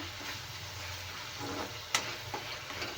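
Vegetable gravy with bitter gourd frying in a pan, stirred, with a steady close sizzle and a few sharp scraping clicks of the spoon against the pan.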